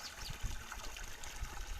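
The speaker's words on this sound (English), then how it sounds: "I had to let the water flow out here." Water gushes and trickles steadily out of the open end of a disconnected PVC pipe outdoors, a continuous close splashing flow with small surges, no talk.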